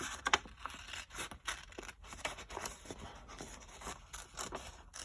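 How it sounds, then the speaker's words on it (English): Small scissors snip a zigzag line through paper during a kindergarten cutting exercise, with quiet, close, irregular clicks and soft rustling as the paper is shifted between cuts. "I'm going to move the paper to match up with my scissors."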